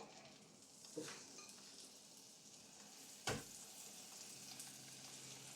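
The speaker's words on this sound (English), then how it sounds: "Yes, I'm going to fry polony." Polony frying in a pan, a soft steady sizzle with a couple of brief knocks and scrapes, quiet and continuous.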